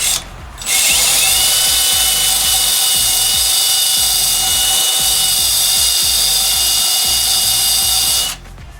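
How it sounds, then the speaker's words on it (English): A power drill with a wire brush whirs loudly and steadily, grinding and rasping against a broken metal radiator overflow outlet tube for several seconds, then winds down. "I got my wire brush on my drill here"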